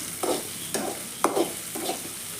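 Shallots and green chilies sautéing in a pan while making an egg stir-fry: four short bursts of scraping stirring, roughly evenly spaced, over a soft steady sizzle, close up and with no talking.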